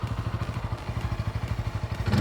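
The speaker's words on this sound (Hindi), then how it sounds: "आइडियल कंडीशन पर इंजन साउंड सुनिए" A motorcycle engine idles steadily close by, with a rapid, even thumping pulse that picks up slightly at the very end.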